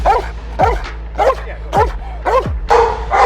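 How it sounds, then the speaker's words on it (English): A Border Patrol K9 police dog at the El Paso, Texas training academy barks about six times in quick succession, loud and close, each bark dropping in pitch. "here he comes, I hear the dog"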